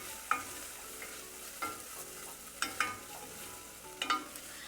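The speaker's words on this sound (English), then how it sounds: "Everything is frying up beautifully." Aromatics frying in a pot for Cajun red beans and rice, with a soft steady sizzle under several distinct stirring scrapes and clinks spaced a second or so apart, close and fairly quiet, with no talking.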